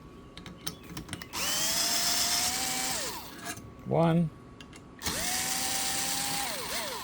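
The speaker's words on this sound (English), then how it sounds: "use my power tool to speed up." A power drill spins a number 3 Allen key while installing a CYC X1 Pro Gen4 motor kit, whirring up to speed in two long runs separated by a short pause, with a brief spoken word between them.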